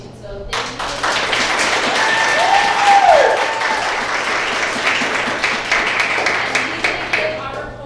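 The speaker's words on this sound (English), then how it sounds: "if we can give a round of applause" A crowd claps steadily for several seconds, swelling in the middle and tapering off, with a brief tone sounding through it.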